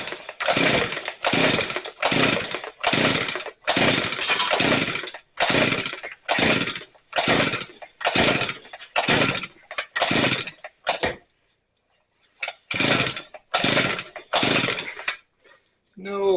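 A Shindaiwa T230X weed trimmer under repair is yanked repeatedly by its pull-start, a rapid series of about a dozen loud rasping recoil bursts with short pauses, and the engine never catches.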